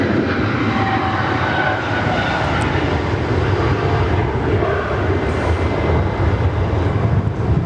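A United airliner departs Sydney Airport, its jet engines a loud, steady roar that holds for several seconds at close range with no voices over it.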